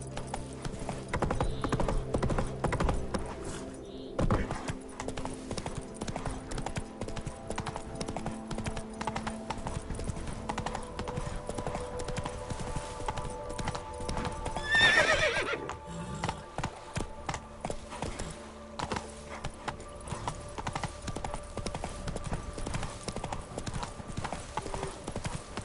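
In The Witcher 3, the horse Roach gallops hard, rapid rhythmic hoofbeats pounding continuously with tack jingling and a brief louder burst midway, heard up close.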